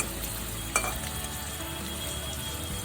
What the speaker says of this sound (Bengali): মিডিয়াম আঁচে আমি আলুটা 2-3 মিনিট সময় নিয়ে ভালো করে ভেজে নিলাম।